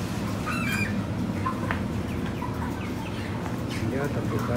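Cobb 500 broiler chickens clucking and squawking in a busy flock, steady and close, over a constant low hum of background noise.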